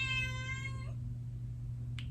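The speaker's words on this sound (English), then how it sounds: "My cat is in the room with me" A house cat lets out one clear, drawn-out meow close to the microphone indoors, followed by a brief faint chirp after a pause.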